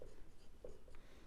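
Pen writing during a maths lesson on polygon area: faint, short scratching strokes on a surface, quiet and close, with a few separate marks.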